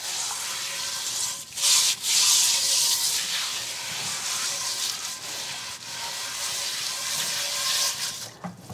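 A cast iron pot being scrubbed gently with a pot scratcher gives close, steady rasping strokes with a hissy, wet edge and a few louder bursts, all without speech.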